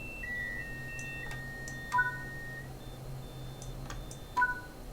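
Short electronic alarm beeps and tones sound inside a Train Sim World 5 train cab: a few sustained tonal beeps and two brief double chirps over a quiet low hum, without talking.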